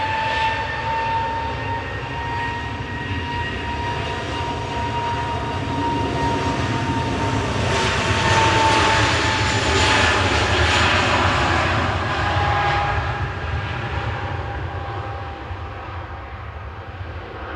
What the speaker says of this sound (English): This is EasyJet to Dubrovnik, Guzli with flight 2243